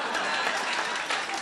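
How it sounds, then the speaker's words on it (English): A commencement audience gives brief, dense applause with many hands clapping at once, steady and fairly loud from start to finish. "Yeah, you can clap."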